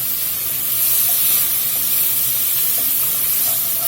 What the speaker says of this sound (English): An old hot pot steams them veggies